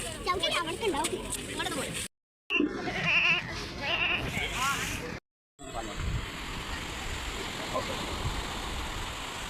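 A goat bleats several times in short wavering cries, mixed with people talking and a steady rushing background, with brief silent gaps.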